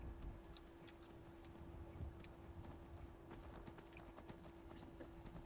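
Horse hooves clip-clopping in the video game Skyrim, a quiet, steady series of light hoof taps at walking pace over a low ambient hum, with no talking.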